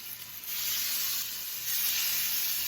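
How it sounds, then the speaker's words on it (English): Burger patties sizzle loudly in oil heated on high in a pan, a steady bright hiss that swells slightly partway through and holds evenly with no talking. "When you drop the burger patties onto the pan,"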